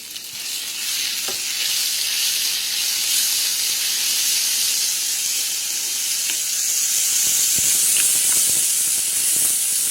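Cumin and green chili paste frying in a pan for a mustard-hilsa curry, a loud continuous sizzling hiss throughout with a few faint stirring taps toward the end.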